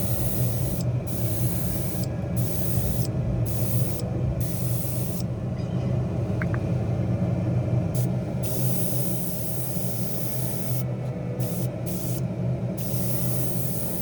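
An airbrush sprays paint onto a BMW M4 G82 wide-body model car in steady, close hissing bursts, several short sprays separated by brief pauses.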